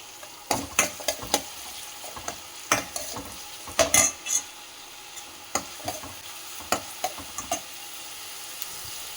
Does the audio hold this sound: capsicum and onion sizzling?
yes